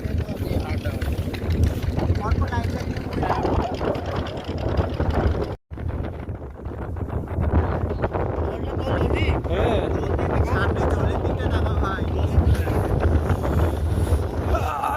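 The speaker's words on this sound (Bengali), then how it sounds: "হাওয়া ভালো দিচ্ছে, দারুণ দিচ্ছে। হাওয়া বাতাস সত্যি অপূর্ব লাগছে।" Strong wind buffets the microphone on a moving boat on a day trip at Taki, a constant loud rush with engine rumble beneath, and voices talking.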